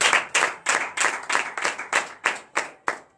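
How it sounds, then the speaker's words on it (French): A congregation at a Beninese morning prayer claps in acclamation: about ten sharp, evenly spaced claps in a steady rhythm, close and loud, with no voices. "Donnez l'acclamation au Seigneur Jésus."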